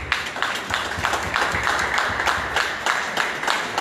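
Crowd at a concert event clapping in response to an announcement, a fairly close, uneven burst of hand claps with distinct rhythmic peaks rather than a smooth roar.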